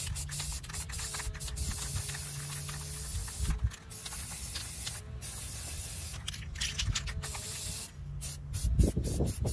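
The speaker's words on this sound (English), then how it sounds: "And I'm going to spray paint this, and I'm going to let it dry." Ultra Cover Gloss Black spray paint hisses from an aerosol can in steady, close bursts with short pauses between passes, applied to a coin slot shadow box bank.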